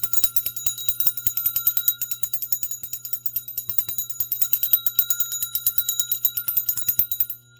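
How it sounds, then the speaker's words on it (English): A small metal bell is rung continuously in a rapid, shimmering jingle of bright repeated strikes, close and steady for about seven seconds before stopping abruptly, with no talking. "They want me to ring my bell."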